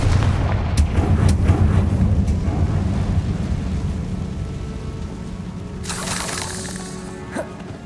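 A Confringo spell blast in Hogwarts Legacy, a loud booming explosion that rumbles and fades over several seconds, followed by a brief crackling burst near the end.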